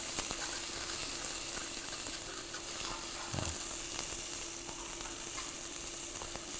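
Chopped shallots sweating gently in a pan, giving a soft, even, continuous hiss of moisture cooking off, with a faint scrape partway through and no talking.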